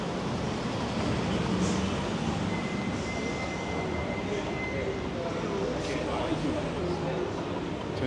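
A steady, dense roar of an elevated train rumbling past close by at Kensington and Somerset in Philadelphia, with grinding rail noise and a faint high squeal.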